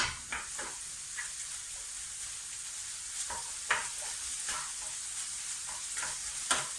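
Cottage pie mince frying in a Teflon non-stick pan, a steady sizzle with soft scraping strokes from a wooden spoon stirring at an irregular rhythm, close and alone with no talk.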